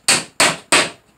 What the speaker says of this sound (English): instead of clamps, I just tap the wire brads in